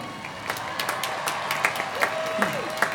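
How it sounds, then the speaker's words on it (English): Scattered clapping from a commencement crowd at a California State University campus ceremony, light and uneven with separate sharp claps and a faint tone over a low murmur. "we need to give her a rip-roaring round of applause again, Marisa Elizabeth Davini"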